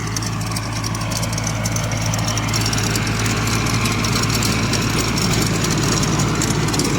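A tractor engine runs while a village cricket field and pitch are prepared, giving a loud, steady low chugging hum close by that continues unbroken, with no talking.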